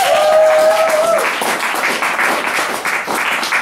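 An open-mic crowd at a coffeehouse collaboration night applauds a performer, a steady burst of clapping from a small room audience, close and lively, with a brief tonal whistle or feedback at the start.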